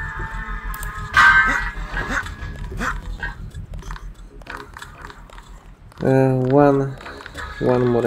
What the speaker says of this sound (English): I just need to make sure this dog will not harm me when I run near it.